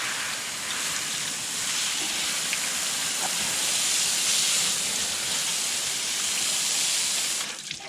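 A steady, loud hiss of steam from water poured over hot wax, holding nearly constant for several seconds before easing off at the end.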